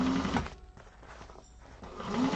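Sewing machine stitching across fabric with back stitches, a steady close motor hum that dips briefly in the middle before resuming, with no voices.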